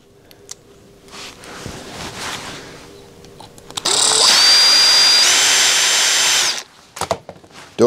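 A power drill opens up a 3 millimeter hole in a Prusa XL idler part, running in a loud steady whir for about three seconds between quieter handling clicks and knocks.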